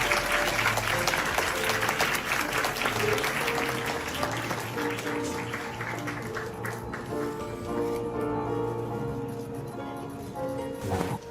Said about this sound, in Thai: ขอเสียงปรบมือดังๆจากสิขุ์ยาวทุกท่านครับ